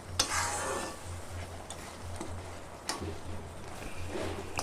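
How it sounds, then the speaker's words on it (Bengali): A spoon scrapes and turns sweet jujube (kul) pickle in a pan, with soft repeated stirring strokes over a low sizzle and a steady hum, close and fairly quiet. "আমি আর 5 মিনিট ধরে এভাবে নাড়াচাড়া করে নিচ্ছি"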